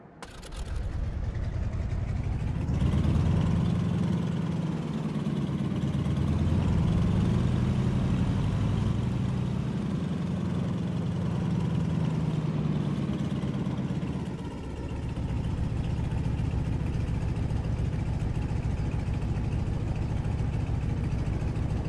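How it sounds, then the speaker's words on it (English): A light aircraft engine drones steadily at low power while taxiing, a continuous close rumble that dips briefly before resuming. "Taxi onto the runway and I'll walk you through the takeoff."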